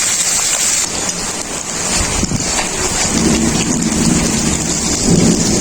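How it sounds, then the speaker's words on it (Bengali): Heavy rain pours steadily outdoors as a loud, constant hiss with a low rumble like distant thunder, heard while cooking goes on indoors, with no talking. "প্রচুর জোরে বৃষ্টিও আরম্ভ হয়ে গেছে"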